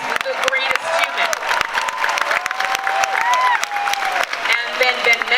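Large audience applauding and cheering in Hall H at San Diego Comic-Con 2022 during the Marvel Studios panel, steady dense clapping with crowd whoops throughout, loud and continuous.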